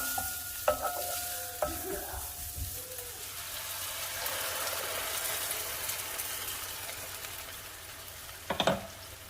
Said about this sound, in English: it smells great when the onion hits the preheated pan